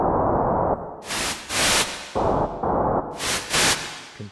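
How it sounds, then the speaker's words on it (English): White noise from a Haken Continuum synthesizer run through simple cascaded filters comes as hissing bursts that switch between muffled, low-passed rushes and full bright static, loud and close, with no voices. "comparing it with white noise."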